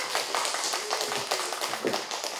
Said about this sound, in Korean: 네, 박수 부탁드려요.